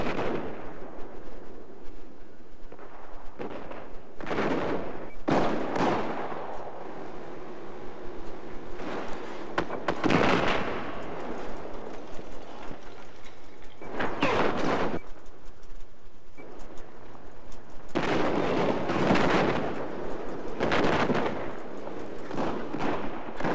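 Battlefield 4 combat with rapid gunfire and laser blasts coming in repeated loud bursts over a steady background rumble, with no talking.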